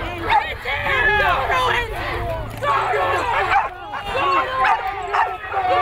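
Dogs barking at protesters at a Dakota Access Pipeline confrontation, loud repeated barks and yelps in rapid bursts over a crowd of shouting voices.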